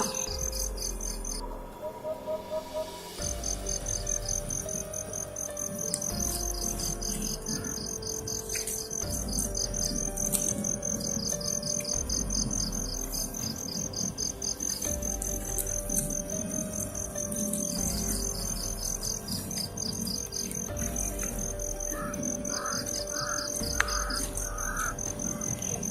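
Crickets chirping steadily outdoors in a dense, continuous pulsing chorus, with crows cawing in the background.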